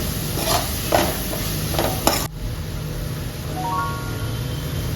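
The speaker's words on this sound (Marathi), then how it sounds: "आता हा इन्स्टंट मसाला मी वापरला आहे तो घालूया थोडं ढवळून घेते" Instant masala is stirred into cabbage and capsicum frying in a pan, giving a steady close sizzle with a few spatula scrapes and taps against the pan.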